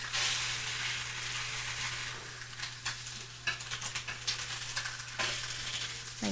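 Mung beans sizzle and spit in a pan, a bright crackling hiss with sharper pops and stirring scrapes near the end, close up over a steady low hum.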